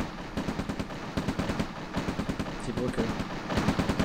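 Tanks and infantry fire on a bridge in the video game C&C Red Alert, producing rapid, dense bursts of gunfire that pulse steadily throughout while someone talks over them.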